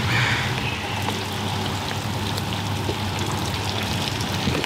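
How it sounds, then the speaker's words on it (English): Heavy rain pours steadily at an RV campsite, a dense, continuous wash of drops hitting surfaces and running water, loud and unbroken throughout with no voices. "just nonstop garbage rain"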